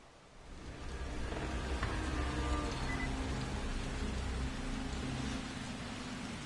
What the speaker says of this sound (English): Alright, so we got a bit of rain going.